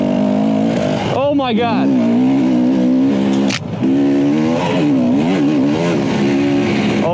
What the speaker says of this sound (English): First time ever on a 2020 Husky 300